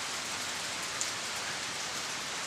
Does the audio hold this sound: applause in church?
no